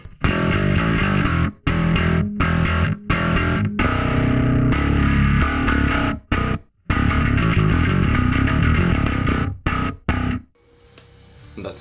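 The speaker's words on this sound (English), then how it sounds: "And that's a distorted tone." A gritty, distorted electric bass tone through a Darkglass B7K Ultra-based preamp model plays a loud riff of chopped notes with brief stops between them, ending in a fading ring.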